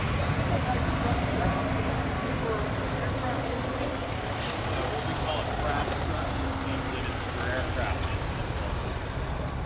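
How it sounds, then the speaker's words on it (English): A large airport fire truck with a big water tank and pump rumbles along airside at Toronto Pearson, its engine a dense, steady drone with broadband road noise throughout. "This is an airport specific truck."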